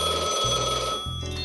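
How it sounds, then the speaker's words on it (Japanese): An old black rotary telephone rings with a steady electronic-sounding bell tone, loud and continuous in the foreground, with the ring pattern shifting slightly partway through. "黒電話かな。"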